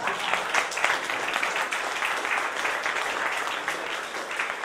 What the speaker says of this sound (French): Je vois qu'il n'y en a qu'un qui applaudit.